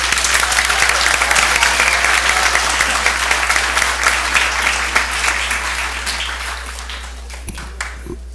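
Audience at a regular school board meeting gives a loud, dense round of applause that stays steady, then thins out toward the end, with a low hum beneath.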